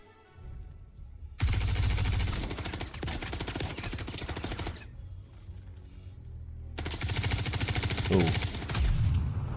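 Gunfire in the Star Citizen video game, a sci-fi shooter set during the Pyro demo, comes in two dense bursts of rapid shots with an exclamation and faint talk in between.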